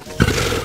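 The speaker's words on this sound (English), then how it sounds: "I hear a lion roaring in my ear." A lion roars once, loud and close, rising abruptly into a broad rumbling bellow that holds steady to the end.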